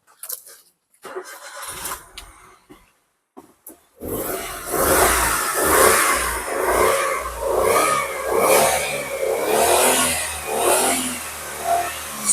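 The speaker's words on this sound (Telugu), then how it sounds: "ఒకసారి ఇంజిన్ కూడా స్టార్ట్ చేసి చూపిస్తాను" A 2011 Maruti WagonR VXI petrol car cranks and fires up after a few quiet clicks and handling noises, then its engine roars loudly in repeated rising and falling revs, close and alone without talk.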